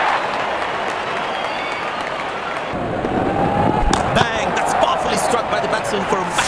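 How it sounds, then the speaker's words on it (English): Cricket crowd at an ICC Men's T20 World Cup match between New Zealand and UAE in India, cheering and applauding steadily as the openers walk out, a broad continuous roar that swells midway with a commentator talking over it. "Openers walking in and the crowd cheering in anticipation"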